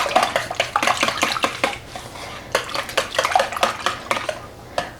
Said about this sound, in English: I'm just going to whisk this and make sure that it's all blended